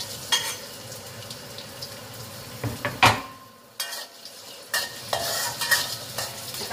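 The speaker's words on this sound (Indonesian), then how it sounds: "sekarang saya tumis cabe dan bawang putihnya ya" Chili and garlic sautéing in hot oil, with a loud, crackling sizzle and repeated scraping and stirring knocks against the pan, briefly quieting before the frying resumes.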